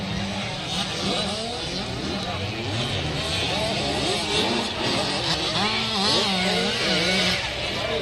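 An 85cc dirt bike engine revs repeatedly, its pitch rising and falling at a motocross jump event, heard at a distance under continuous crowd noise and excited commentary.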